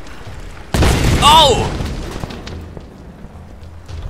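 An explosion goes off in the Tomb Raider video game, a single sudden loud boom with a rumbling tail that fades over a couple of seconds, and a player gives a startled exclamation as it hits.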